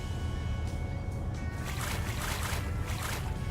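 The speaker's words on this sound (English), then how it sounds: "We'll go ahead and drop that, speed up the engine here." A lobster boat engine hums low and constant in a North Atlantic fishing video game while water splashes and rushes in repeated bursts around the hull.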